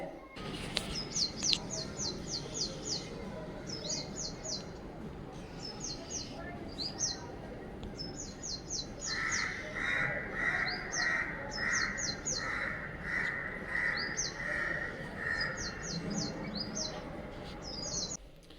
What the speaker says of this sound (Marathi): किती सुंदर असा चिव चिव चिव चिव आवाज येतोय पक्ष्यांचा